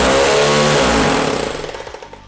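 Bosch hammer drill running in concrete hammer-drilling mode, a loud rapid pounding buzz that slows and winds down into spaced knocks at the end.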